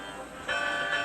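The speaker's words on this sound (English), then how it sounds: "Listen to my bell, Sir Handel," whooshed Duncan." A toy train engine's bell rings out, a clear sustained metallic clang that swells after a quiet start and holds with a ringing tone.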